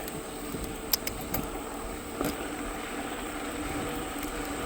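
Steady road rumble from a vehicle rolling along a shady country road near Benevolence, Georgia, holding an even drone throughout with a few brief rattles and clicks over it and no talking.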